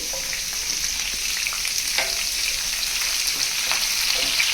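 Green chillies sizzle steadily in a hot pan while uppudu pindi is cooked in a Telangana kitchen, with a continuous crackling hiss and a few sharp stirring clicks. No one speaks.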